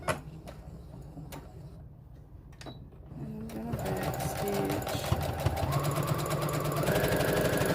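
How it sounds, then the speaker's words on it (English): A sewing machine runs a straight stitch in blue thread down the edge of an envelope throw pillowcase, first a few quiet clicks, then a steady rapid mechanical chatter that builds and holds, close and moderately loud. "Gonna sew straight down."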